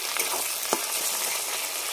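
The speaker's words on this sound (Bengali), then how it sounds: "পেঁয়াজের সাথে টমেটোগুলো ভালো করে কষাতে থাকবো।" Tomatoes and onions sautéing in a pan for a Bengali dry Loitta fish curry, a steady dense frying sizzle with a brief stir scrape near the start and no talk.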